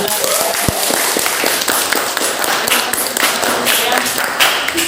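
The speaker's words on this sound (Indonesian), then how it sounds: "Tepuk tangan buat kelas" A school class claps hands together after a lesson, a busy patter of many small claps, fairly close and moderately loud, with some voices mixed in.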